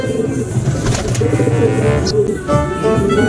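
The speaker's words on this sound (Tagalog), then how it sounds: "At nandito na nga ang ating mga ibon." Racing pigeons arriving at a loft during a race: soft, close cooing and low bird calls over a busy ambient background, with a brief flutter and scrape near the end.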